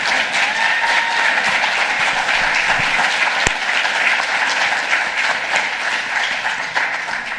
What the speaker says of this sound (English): could we give a round of applause to our panelists?